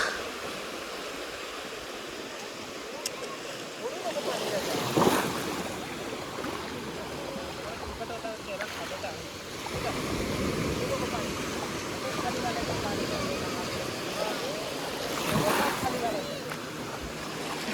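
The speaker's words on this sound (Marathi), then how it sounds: "अशी पाण्याची लाट आली की छान वाटतं" Sea waves at Nivati beach on the Konkan coast roll in and wash up the shore in soft surges that swell and fade every few seconds, with voices talking faintly over the steady surf.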